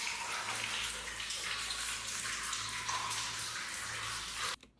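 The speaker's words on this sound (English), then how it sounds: "There's water dripping," Water trickles and drips steadily in an old mine tunnel, a continuous splashing wash that stays fairly faint and even before cutting off abruptly.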